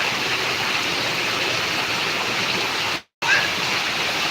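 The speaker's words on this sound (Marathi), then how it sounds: "बघा टेरेसवरतून कसं मोटरचं पाणी पडते असं पाणी पडते" Steady, loud rush of water from a two-horsepower motor pump pouring down off a terrace continuously, with a brief dropout near the end before the roar resumes.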